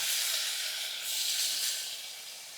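Tomato pieces frying in hot oil on a stove for chutney, giving a steady, fairly loud sizzling hiss that swells and eases slightly, with no talking.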